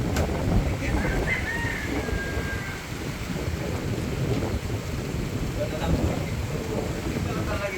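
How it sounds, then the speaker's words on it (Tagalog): Steady heavy rain hisses throughout, with low thunder rumbling under it at an outdoor painting job site in the Philippines. Faint voices may sit beneath the downpour. "Ulan nga."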